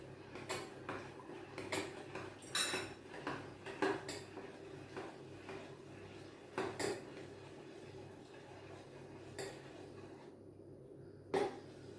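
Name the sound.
stirring a milk mixture for caramel pudding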